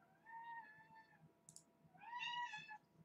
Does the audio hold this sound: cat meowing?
yes